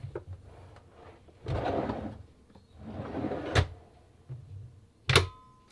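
A drawer in a van's kitchen build, with a stainless steel finish, is pulled open: a few short knocks and slides, then a sharp latch-like clack near the end, close by and with no talking.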